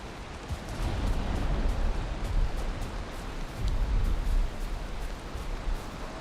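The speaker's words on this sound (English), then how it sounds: "It's raining" Rain falling in the Valheim video game, a dense steady hiss of downpour with low rumbling swells, continuous and enveloping, with no talking over it.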